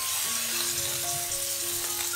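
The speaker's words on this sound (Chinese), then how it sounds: "再放入包菜，翻炒均匀。" Potatoes and cabbage stir-fried in a pan for a vegetable curry, giving a steady, close sizzle with faint scraping of stirring throughout, no voices.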